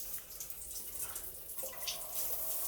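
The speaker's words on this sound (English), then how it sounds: "It's gonna get faster with the cold water pressure. Here comes cold." Cold water runs from a tap in a steady, hissing rush with faint splashing, moderately close and continuous throughout, growing slightly stronger toward the end.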